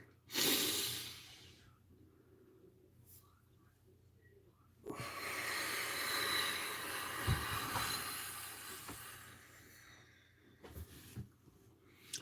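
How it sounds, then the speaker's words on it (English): A deep breath is drawn in slowly and let out in a long, soft airy exhale close to the microphone, with a short breathy sound at the start and faint noise at the end. "Take a nice deep breath."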